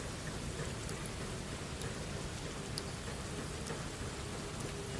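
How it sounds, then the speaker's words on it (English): Heavy rain pours steadily outdoors, a dense, continuous wash of drops with no pauses, loud and close throughout, with no voices. "The rain outside was practically screaming"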